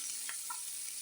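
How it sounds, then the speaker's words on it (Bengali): Prawns frying in a pan for lau chingri, a soft steady sizzle with a couple of brief stirring scrapes over about a second, close and fairly quiet. "চিংড়ি মাছটা লাল লাল করে ভেজে নিতে হবে"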